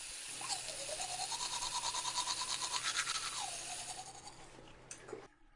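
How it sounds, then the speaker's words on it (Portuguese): Teeth being brushed with a toothbrush in a bathroom, a close rhythmic scrubbing that repeats steadily for several seconds before slowing and stopping, with no talking. "que agora estou no banheiro. Escovando os dentes."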